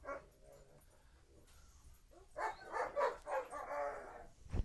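Several excited household dogs bark and yip in a quick flurry after a quiet stretch, with some whimpering mixed in. The barking sits at medium distance and rises in loudness toward the end.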